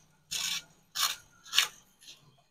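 A billiard cue's break-jump tip is trimmed with short, dry scraping strokes, four rasping passes spaced about half a second apart, close and fairly quiet with no talking.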